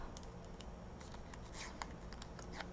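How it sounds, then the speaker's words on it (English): A paper circle folded in half for a Christmas ornament, a very quiet, close crinkling and creasing with small crisp rustles scattered through. "I'm going to fold it in half."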